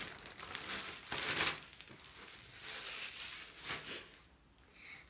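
A small plastic package from a SHEIN clothing order is opened by hand, giving close crinkling and crumpling bursts with a louder rustle near the start and another later on, without any talk.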